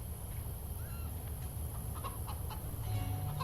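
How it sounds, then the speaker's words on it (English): Chickens clucking in the video game Minute of Islands, several faint short clucks scattered over a steady hum of background ambience. "Oh my god, more chickens."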